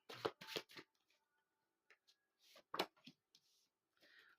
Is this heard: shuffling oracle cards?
yes